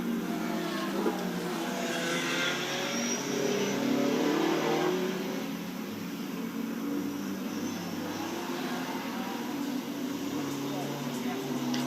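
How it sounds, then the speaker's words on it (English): Racing cars accelerate past the start-finish line at Thruxton circuit during a CSCC race, a distant engine drone that swells and fades under continuous commentary. "over the start-finish line goes the leading cars that have pitted"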